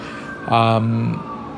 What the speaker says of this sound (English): if you hear those sirens in the background